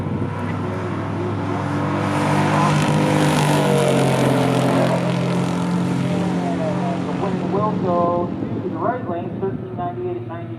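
A 1965 Chevrolet Malibu SS and a 1969 Chevy Chevelle SS396 drag racing, engines roaring loudly and rising in pitch before fading away, with an announcer talking over them.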